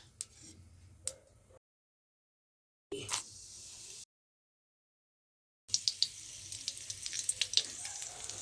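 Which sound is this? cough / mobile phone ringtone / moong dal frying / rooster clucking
moong dal frying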